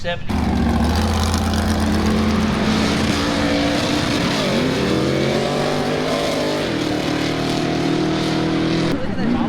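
A loud, raspy V8 engine of an Ultra4 off-road race truck drones close by, its pitch rising and falling as the throttle changes, steady for the whole stretch.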